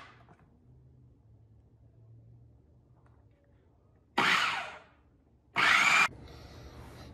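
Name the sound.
food processor running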